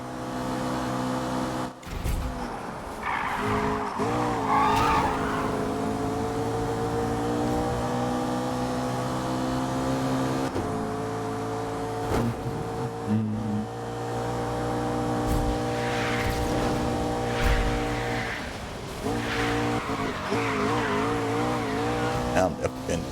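A racing car drifting in Need for Speed: Rivals on PS3, its engine droning loudly and steadily throughout while tires squeal in several bursts, most noticeably early on and again in the latter half.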